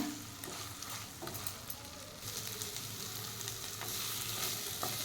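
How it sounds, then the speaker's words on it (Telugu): Mutton liver with finely chopped coriander leaves fries and is stirred in a pan, giving a steady dense sizzle with occasional scraping and clinking of the spoon, close and continuous. "ఇదంతా కలుపుకుంటూ మంచిగా ఫ్రై చేసుకోవాలండి"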